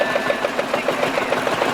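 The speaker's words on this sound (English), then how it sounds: "4-wheel drive. Diesel engine." A 1950 four-wheel-drive diesel engine running at a steady idle, its regular rapid knocking beat close and clear against a busy outdoor background.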